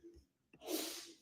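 A single sharp sneeze bursts out after a short intake of breath, close and loud, with a faint murmur just before it.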